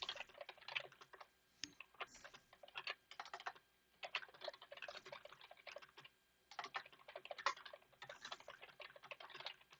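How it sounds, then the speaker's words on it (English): Rapid, furious typing on a computer keyboard: dense bursts of crisp key clicks separated by short pauses, close and fairly quiet, with no voices. "Don't know if you hear me typing furiously."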